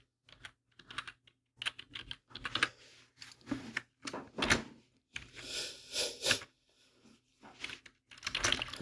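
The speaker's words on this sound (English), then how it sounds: "Type the name of university." Quick, uneven bursts of typing on a computer keyboard, with brief pauses between runs of keystrokes, close and fairly loud with no voices.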